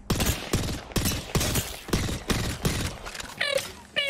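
Rapid bursts of video game gunfire from a prestige-skinned weapon repeat in a steady rhythm, loud and close, with brief mechanical clicks between volleys and no talking.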